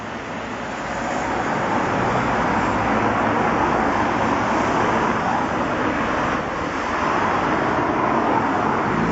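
Road traffic rushes past in a steady, loud roar of tyres and engines. The level swells slightly as vehicles come by, and there is no talking.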